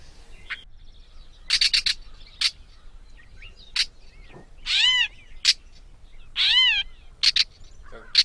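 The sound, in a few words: gray catbird call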